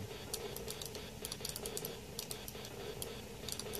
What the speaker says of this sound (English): It's got a very clicky joystick.